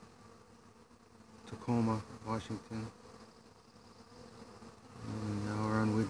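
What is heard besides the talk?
honey bees at hive entrance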